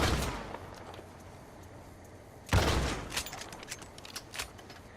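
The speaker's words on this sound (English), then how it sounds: "The pump action shotgun is a nice shotgun." A pump-action shotgun fires in a Western-themed video game, one sharp blast followed by a few smaller cracks and echoes against quiet background ambience.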